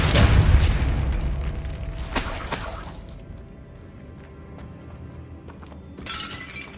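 A Depulso spell cast in Hogwarts Legacy lands with a loud shattering burst and boom, followed by a scatter of breaking debris that fades into a quieter tail before a brief late flare.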